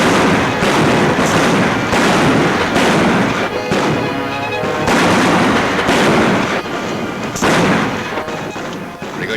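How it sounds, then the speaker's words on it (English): Gunfire in a western movie shooting scene: a loud, close run of sharp shots, roughly a dozen reports in an uneven rhythm over a continuous noisy background. "Pretty good shooting, Meg."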